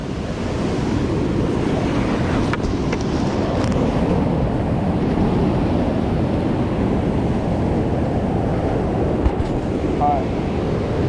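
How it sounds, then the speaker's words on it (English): A loud, steady roar of rushing white water fills the whole stretch, with wind buffeting the microphone throughout. "This is high level white water."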